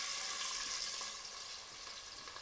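Chopped onion hits roasted garlic in a pan for a crab curry, producing a quiet, airy continuous sizzle that fades slightly toward the end.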